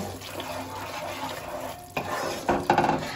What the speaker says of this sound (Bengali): দিয়ে এগুলোকে খুব ভালো করে একটু মিশিয়ে নেব।